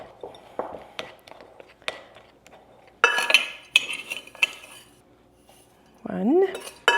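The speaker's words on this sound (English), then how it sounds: "Okay, now let's see if I can stir this up." Metal utensil scraping and clinking against a bowl as pistachio cream is stirred with a pinch of salt in a home kitchen. Close, irregular clatter in bursts, heaviest midway.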